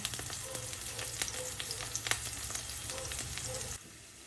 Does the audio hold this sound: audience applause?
no